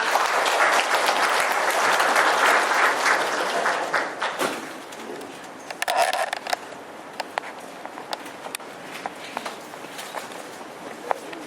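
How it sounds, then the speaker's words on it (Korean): Audience applause at a residents' briefing on a housing redevelopment plan at Gangbuk district office, a loud dense burst for the first few seconds that thins into scattered claps and light thumps, with some faint movement in the hall. "큰 박수로 맞아주시기 바랍니다"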